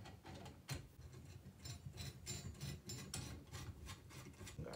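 A threaded rod is screwed by hand into a part of a Chaplin fertilizer and seed spreader, giving faint, steady rasping and scraping turns that repeat in short bursts.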